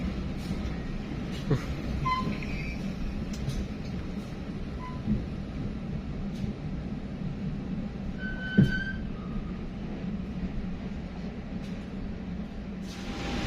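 Kutojaya Selatan passenger train running between Sidareja and Gandrung Mangu stations, heard from inside as a steady low rumble and rolling drone with a few faint clanks and one sharper knock.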